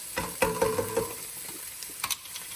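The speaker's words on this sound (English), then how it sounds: "help sweat the onions" Onions sweating in a pan for veggie pasta give a soft sizzle under a few close stirring scrapes, with brief louder strokes early on and a quieter steady hiss afterward.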